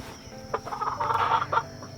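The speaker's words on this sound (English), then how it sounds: "They've got a rooster with them." Backyard chickens and a rooster clucking close by, a cluster of short bursts rising and falling over about two seconds with no talk.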